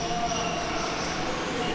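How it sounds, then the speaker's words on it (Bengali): A train rolls past on the line near Mawa station in a dense, steady rumble with faint squealing. It is loud and close throughout the short stretch. "আমার উপরে ট্রেন যাচ্ছে আর আমি নিচ দিয়ে যাচ্ছি।"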